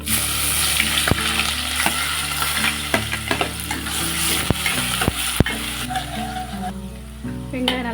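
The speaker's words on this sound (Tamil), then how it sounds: "எண்ணெய் ஊற்றிக்கலாம். வெங்காயம் சேர்த்துடலாம்." Onions fry in hot oil, sizzling loudly and close while a utensil stirs and taps against the pan in irregular clacks.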